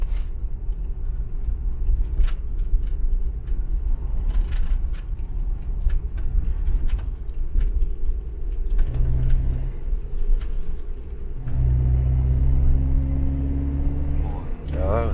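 A Kia Bongo 3 LPG truck engine rumbles steadily as it accelerates, rising into a stronger revving drone toward the end, heard from inside the cab while people talk.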